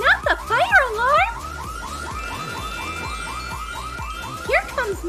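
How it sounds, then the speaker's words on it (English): A fire alarm in an animated college classroom blares as a repeating electronic whoop, rising and falling tones cycling steadily, loud and close, with brief cartoon voices and effects at the start and end. "Oh no, not the fire alarm!"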